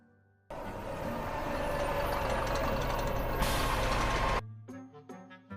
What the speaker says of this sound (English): Just then, I saw the bus approaching and patiently waited to go on it.